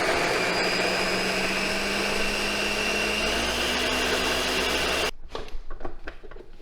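A blender whirs loudly and steadily, pureeing sofrito, then cuts off abruptly, leaving a few light clatters and knocks in a home kitchen.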